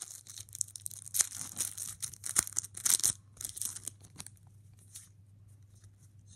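A Match Attax 2019/20 card pack being torn open: a few sharp tearing and crinkling bursts of foil wrapper up close, then quieter rustling fading toward the end.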